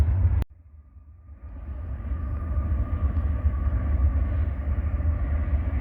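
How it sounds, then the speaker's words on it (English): Low, steady rumble of a train rolling past across the street, preceded by a sharp click, with a faint tonal hum running throughout. "See that train right over there? They run like every hour."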